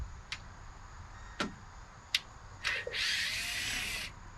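Power drill backing sheet metal screws out of the radiator hold-down on a 1976 Ford Ranchero, with a few sharp clicks and taps, then a short high whirring run near the end, close and fairly quiet.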